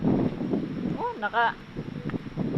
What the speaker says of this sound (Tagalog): naka high volume man dagway ni ato ang hangin diri mga bay